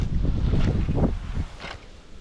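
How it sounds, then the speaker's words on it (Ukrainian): Strong gusting wind buffeting the microphone outdoors near water on a cold autumn day while pike fishing, heavy rumble easing after a second, no talking. "Ох, вітер який."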